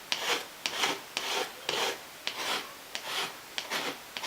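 A Caran d'Ache pastel pencil is rubbed against drawing paper in repeated close, raspy strokes, roughly two per second in a steady scratchy rhythm.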